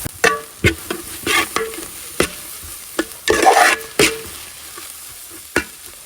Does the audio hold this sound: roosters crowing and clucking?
no